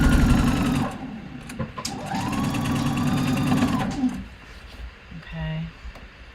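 A sewing machine runs a curved seam in bursts, its rapid whirring stitch rising and easing as the fabric is guided, with a short pause and a brief final run, while a person talks over it.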